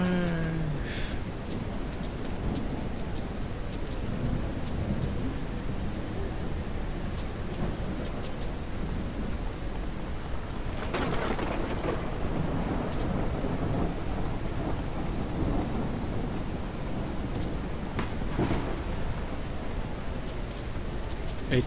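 Rain pours steadily as a thunderstorm rumbles through the video game Ranch Simulator, a continuous dense wash of drops with low thunder swelling around the middle and again near the end, no voices.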